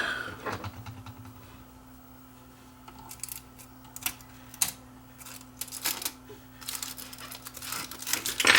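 Jammed tape being pulled out of a Toshiba DVR620 VCR DVD combo, with scattered close clicks, crinkles and plastic rattles over a low steady hum from the machine, quiet at first and busier toward the end.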